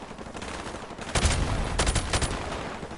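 Loud bursts of gunfire in the video game Propaganda: a heavy volley erupts partway through, followed by several more sharp shots close by, over a constant background of game noise.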